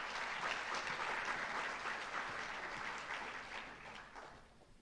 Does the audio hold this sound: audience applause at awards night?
yes